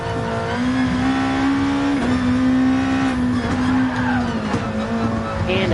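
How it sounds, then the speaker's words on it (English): A race car in a racing video game loses grip, with a steady engine drone, tire squeal and skidding as it spins out. A voice talks over it briefly. "Ooh, we spin out and we smash this car extremely bad."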